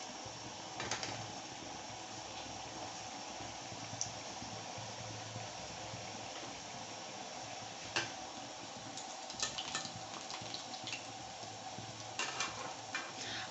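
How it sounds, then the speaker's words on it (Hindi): Gujiya pastries fry in ghee in a small kadhai, giving a steady, soft sizzle throughout with occasional light ticks and clinks of a utensil against the pan. "अब ये हम गुजिया तल रहे हैं ताकि थोड़ी चाशनी हमारी ठंडी हो जाए।"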